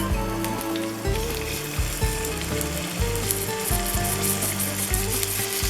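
Beef sizzles and fries loudly in a hot pan for Syrian fatta shawarma, a dense continuous crackle with rhythmic stirring scrapes roughly once a second, close up and without talk.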